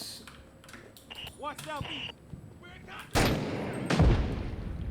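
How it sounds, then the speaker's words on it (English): Heavy explosive blasts from RPGs fired in the video game Six Days in Fallujah, two loud broad bursts landing close together near the end after scattered gunfire and clatter, with a voice talking earlier. "Plenty of RPGs being fired"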